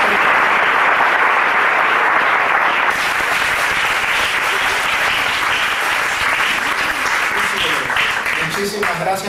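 Audience applause at an evening public talk hosted by a metropolitan park foundation in a Spanish-speaking setting, steady and dense clapping filling the whole stretch at high level, with a slight shift in texture partway through.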